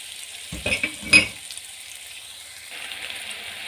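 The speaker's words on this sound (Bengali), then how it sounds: "ক্যাপসিকাম, পেঁয়াজ, আদা, রসুন আমি একটু সটে করে নিচ্ছি।" Capsicum, onion, ginger and garlic sautéing in a pan, a soft steady sizzle with a few brief stirring scrapes near the start, close and fairly quiet.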